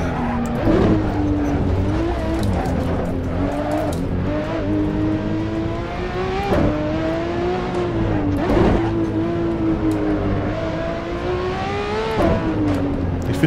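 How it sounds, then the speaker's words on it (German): In the Assetto Corsa racing game, a Ferrari 599XX Evo engine screams continuously through winding corners, pitch climbing and falling with each shift, and sharp backfire pops sound when the throttle lifts. "Auch dieses leichte Backfire, wenn man vom Gas geht, ist sehr atmosphärisch."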